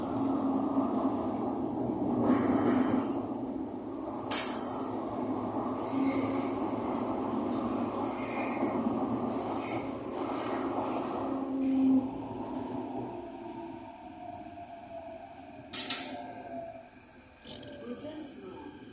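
SMRT Thomson–East Coast Line train running from Maxwell to Woodlands, a steady low rumble of wheels and motor inside the carriage with occasional squeals and clanks, and recorded station announcements playing over it.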